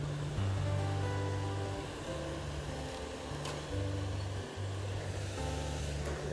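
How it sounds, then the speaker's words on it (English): A waterfall in New York's Finger Lakes in fall, just off a parking lot, gives a steady, continuous rush of water. A low, droning hum runs underneath it the whole time. "Already see the first waterfall right out of the parking lot."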